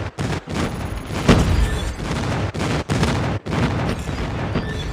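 Video game gunfire rattles in loud, dense bursts with heavy booms and brief gaps, sounding close and continuous over a busy battlefield mix.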